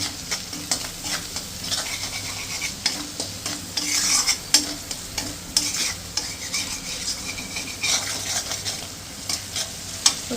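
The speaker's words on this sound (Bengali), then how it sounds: "গ্যাসের ফ্লেমটা কমিয়ে রেখে পোস্তটা কষাবো না হলে পোস্তটা বেশি ভাজা হয়ে যাবে" Poppy seed paste is stir-fried on a low flame, a soft sizzle broken by repeated scraping strokes of a spatula against the pan in an uneven rhythm.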